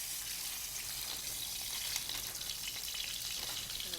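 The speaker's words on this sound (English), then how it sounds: "just taking this veg, getting just a little color on it" Vegetables browning in a hot pan in a restaurant kitchen give a steady, bright sizzle and crackle, loud and continuous for a few seconds with no talking over it.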